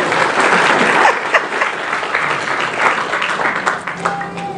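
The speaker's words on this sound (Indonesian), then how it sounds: "Tepuk tangan nggak apa-apa" Crowd applause at a Paytren Academy gathering, a broad continuous clapping roar that holds steady throughout, with faint voices mixed underneath near the end.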